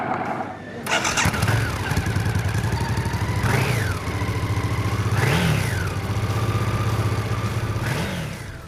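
A 2003 Voxan Scrambler V-twin motorcycle engine idles with a steady low rumble, then revs up sharply three times in quick surges before settling back, loud and close.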